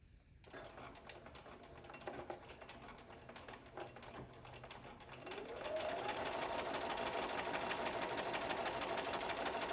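A sewing machine stitches a quilt stamp block, first with a light mechanical clatter, then it speeds up into a louder, steady whirring hum that holds to the end, close by with no talk.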